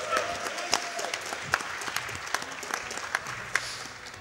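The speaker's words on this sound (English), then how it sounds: "Let's see some applause for that." An audience at the SGDQ 2017 speedrunning event claps in scattered, moderately loud applause, with individual sharp claps standing out over the steady patter.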